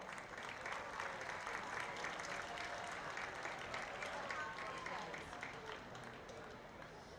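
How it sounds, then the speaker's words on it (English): Crowd applause at a high school football game, College Park at Oak Ridge, heard as a faint, distant, steady roar of clapping and crowd noise that holds evenly throughout without a clear start or finish. "Let's give these young people a round of applause."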